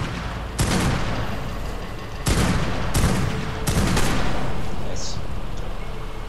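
Ark: Survival Evolved gunshots in a cave on The Island, four loud, sharp blasts spaced about a second apart, each with a booming tail and echo, followed by a quieter lingering rumble.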